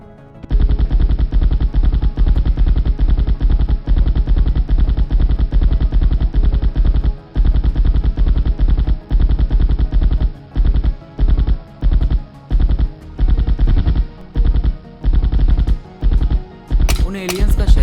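Military forces fire guns at invading aliens in an animated story: loud, sustained machine-gun bursts roar continuously, then break into choppy, rapid volleys separated by short gaps near the end, with no talk over them.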